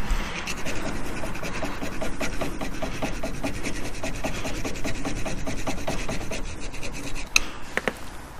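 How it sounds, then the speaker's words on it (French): A metal hand file rasps across a damaged brake part during a Twingo brake pad and disc change, a steady run of close, rhythmic rubbing strokes with no talking, ending with a couple of sharp metallic clicks. "on est obligé de le reprendre directement à la lime"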